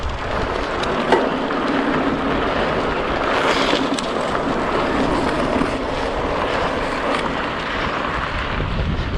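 Strong wind roars across the microphone in a constant, dense rush while riding westward into a changing headwind, with no voices.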